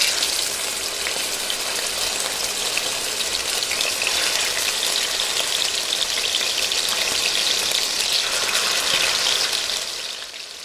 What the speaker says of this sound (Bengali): তেল গরম হয়ে এলে একে একে মাংসের পিসগুলো দিয়ে দেব